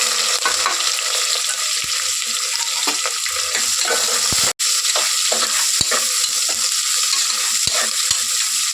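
Onion and whole spices, mustard seed, cumin, fennel, cinnamon and cloves, fry loudly in hot oil for tomato bath, a dense bright sizzle with spatula scrapes and taps, and one abrupt momentary cut.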